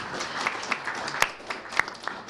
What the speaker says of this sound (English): Big round of applause for the panelists